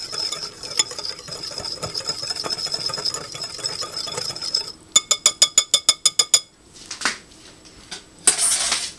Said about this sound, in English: I'm just going to whisk these together like this